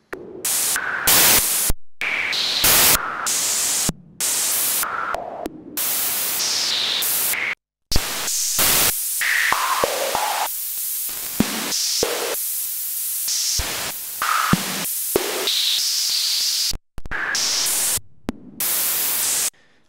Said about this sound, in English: Let's now hear the noise generator.